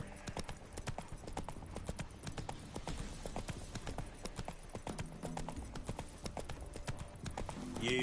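A horse gallops in the video game The Witcher 3: Wild Hunt, with rapid, even clip-clop hoofbeats running close and steady from start to end.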